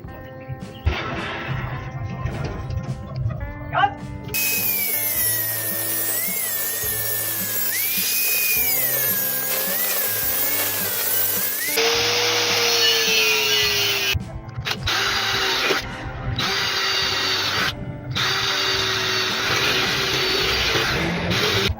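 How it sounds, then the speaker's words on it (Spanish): Angle grinder with a cutting disc cutting slots in a door for a mortise lock, a loud high whine that rises and dips as the disc bites, with short cuts and pauses near the end. "nos vamos a apoyar con nuestro disco, un disco de corte, y nos aseguramos de que esté bien centrada para que podamos hacer las ranuras con nuestro esmeril"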